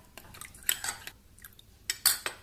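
Cornstarch and water being stirred into a slurry in a bowl, giving a handful of sharp spoon-against-bowl clinks and scrapes spaced irregularly, close and fairly quiet, with no talking.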